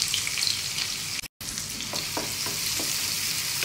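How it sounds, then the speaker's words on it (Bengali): Chopped onion and garlic fry in hot oil for a masoor dal dish, giving a steady bright sizzle broken by a brief silent dropout, with a few soft stirring clicks toward the end and no voices. "তেলটা গরম হয়ে গেছে, পেঁয়াজটা রসুনগুলো দিয়ে দিচ্ছি।"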